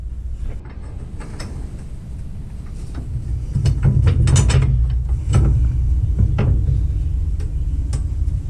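A bolt spun on a broken trailer landing gear box gives loud, close metallic grinding and clicking that builds midway into a steady mechanical churn with sharp ratchet-like ticks, and nobody talks.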